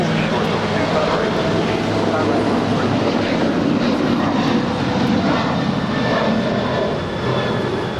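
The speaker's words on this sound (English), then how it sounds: "That is United 387 departing to Houston. It's an 8-year-old 737 900ER." United Boeing 737-900ER, eight years old, departing runway 25 Right at LAX for Houston, makes a steady broadband jet roar that holds for the whole stretch, with voices faintly underneath.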